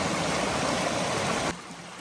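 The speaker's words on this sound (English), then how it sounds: "here's a little waterfall" A small stream spills as a little waterfall over mossy rocks on the Appalachian Trail, a loud, steady broadband rush that fills the clip and drops sharply quieter near the end.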